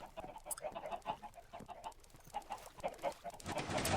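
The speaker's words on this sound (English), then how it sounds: "Got some chickens." Minecraft chickens cluck in steady, repeated bursts throughout, close and fairly quiet, with no talk over them.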